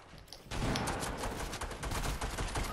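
Dense, rapid pistol gunfire in the video game Fortnite, a loud sustained burst of overlapping shots that starts abruptly after a brief quieter lead-in and continues without pause.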